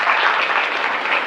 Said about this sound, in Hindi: एक बार सम्मान के साथ अपने लिए ताली बजाओ जोरदार।